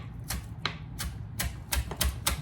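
Knife making tiny quick cuts through chives on a cutting board, a run of light, close taps in an uneven rhythm over a low background hum, no voices.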